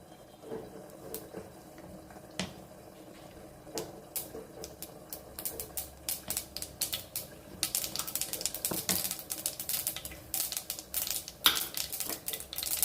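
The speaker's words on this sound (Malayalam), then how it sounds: "കടുകൊന്ന് പൊട്ടട്ടെ നന്നായിട്ട്." Mustard seeds crackle and pop in hot oil, tempered for a Kerala-style fish curry made without fish. Sharp, close pops start sparse and grow denser and louder toward the end, with no talking.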